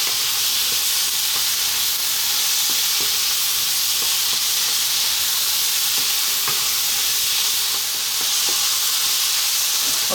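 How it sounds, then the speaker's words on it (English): Eggplant curry with ground spices fries in a pan, a continuous loud sizzle and hiss with scattered clicks and scrapes of a utensil stirring it. "We're going to fry this around now for about 4 minutes."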